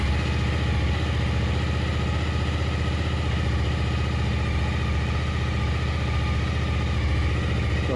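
A Suzuki SV1000S motorcycle engine idles steadily and close up, a constant low throbbing rumble with no pause, running after an ECU remap with the lambda sensor removed.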